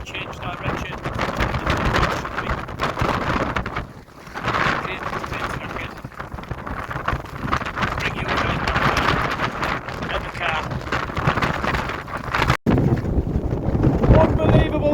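Strong gusts batter a Hilleberg Soulo Black Label tent at a wild camp in the Lake District, a loud, continuous roar of wind buffeting the fabric and microphone, with one sharp dropout near the end.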